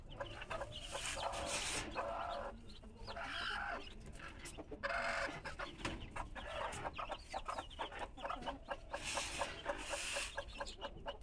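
A native hen clucks beside freshly hatched chicks, with repeated soft clucks and sharper cheeps in an uneven rhythm. A rooster-like call rises now and then, and faint voices sit in the background.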